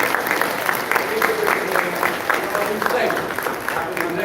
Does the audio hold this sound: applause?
yes